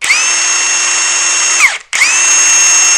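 A RIDGID cordless drill, bought as a 2013 combo, whirs at steady high speed, winds down, and after a brief pause spins up again and runs on, loud and near.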